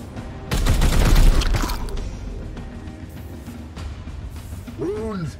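A burst of gunfire from a shot in the video game Warhammer 40,000: Chaos Gate Daemonhunters, loud rapid reports for about a second that then fade into a rumbling mechanical tail, with whooshing sweeps near the end.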